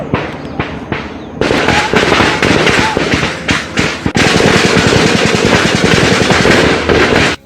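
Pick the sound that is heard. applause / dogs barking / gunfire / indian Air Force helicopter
gunfire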